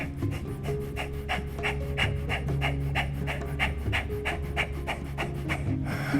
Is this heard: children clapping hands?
no